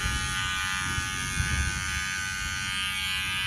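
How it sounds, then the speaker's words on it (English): Electric hair clippers buzz steadily and continuously at close range during a razor-cut haircut, holding an even hum with no talking over it. "we're going to be turning the clipper on"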